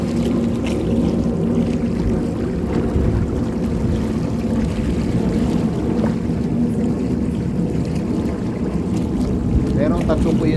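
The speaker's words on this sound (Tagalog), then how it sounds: "Medyo mahangin siya." Steady gusting wind buffets the microphone on a shoreline during casting and jigging fishing, a loud, continuous rumbling roar with no distinct breaks.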